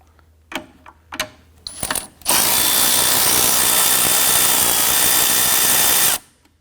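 A ratchet backs a 10mm nut off a brace on a 2017-2020 Hyundai Elantra 2.0L: a few sharp clicks, then a loud, steady mechanical whir that runs close by for about four seconds before stopping abruptly.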